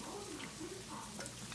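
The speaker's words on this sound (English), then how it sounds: "I'm frying with corn oil" Homemade chicken fingers fry in corn oil, giving a faint, steady bubbling sizzle with soft crackles throughout, quiet and close.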